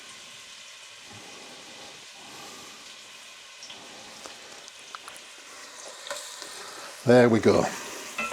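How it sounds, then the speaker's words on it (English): One large or two smaller finely chopped onions frying in a pan over medium heat while a lamb rogan josh is cooked: a low steady sizzle, then a louder burst of crackling near the end, with a brief spoken remark. "now it's in with the onion, finely chopped onion, 1 large one, or like I've got 2 smaller ones"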